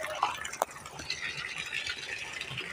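Water runs steadily into a container, a continuous splashing fill with a sharp clink near the start, close and moderately loud with no talk.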